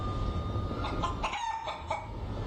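A relocated hen clucks in a run of short, choppy bursts over a steady low rumble, close and fairly loud, with no talking.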